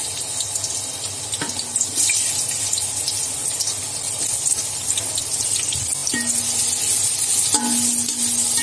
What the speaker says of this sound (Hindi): तेल गरम हो गया है अब प्याज डालेंगे